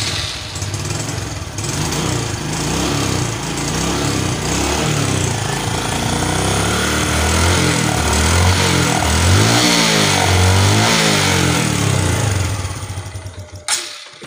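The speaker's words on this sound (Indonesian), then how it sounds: "motornya, kita hidupkan." A motorcycle engine fitted with an oversize 150 piston starts up and revs loudly close by, a rough rattling idle rising and falling through several throttle blips before cutting off abruptly.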